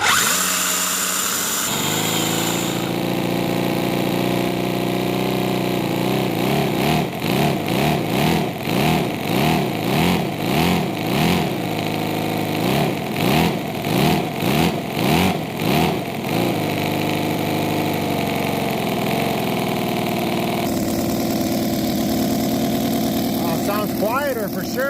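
A small V12 model engine runs loudly up close on a dyno, idling with a rapid, buzzing drone and pulsing revs in the middle before settling back down.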